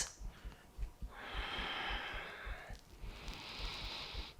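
Slow, deep breaths during a yoga practice, soft and close: a short inhale, then long airy exhales in two waves, with faint low bumps underneath and no speech.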